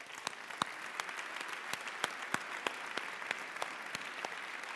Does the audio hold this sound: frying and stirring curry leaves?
no